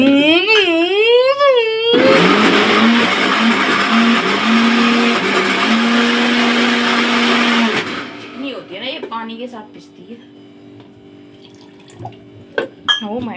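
Someone talks, then a loud mixer grinder grinding soaked lentils runs steadily for several seconds and cuts off, followed by more talking and light kitchen clatter.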